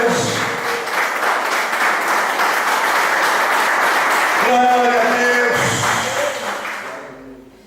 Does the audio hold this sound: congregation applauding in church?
yes